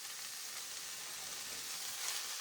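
Mushrooms sizzle and fry in a pan while beef macaroni is cooked off-grid, giving a steady, fairly faint crackling hiss with no voices.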